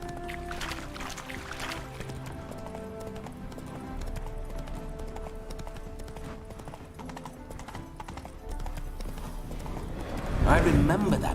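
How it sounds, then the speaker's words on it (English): A horse trots with rhythmic clip-clopping hooves in the video game The Witcher 3, and a neigh briefly rises near the end over background game sounds and music. "Spooking my horse."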